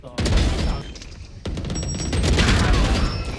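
Dense, loud gunfire from the shooter game Valorant comes in rapid bursts with booming impacts, cut by a brief pause and then resuming as continuous heavy firing.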